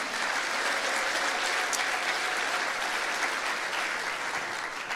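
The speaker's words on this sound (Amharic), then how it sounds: "ለሱ ክብር ጭብጨባ ይሁንለት።" A church congregation bursts into sustained applause, a dense, steady wash of many hands clapping together at moderate distance, continuing evenly without pause.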